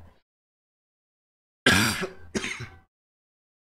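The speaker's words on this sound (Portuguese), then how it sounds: "Uma tosse" In the game Red Dead Online, after a stretch of silence, a single character nearby gives two rough, throaty coughs, almost like clearing the throat, then quiet returns.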